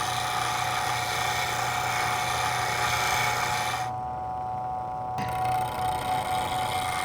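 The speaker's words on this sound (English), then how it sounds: "lay the tool against the grinding wheel, and roll the tool on its side" A woodturning bowl gouge is sharpened on a grinding wheel using a V-arm pivot jig. A continuous high, steady grinding whine holds throughout, briefly easing and shifting in tone partway through as the tool is rolled.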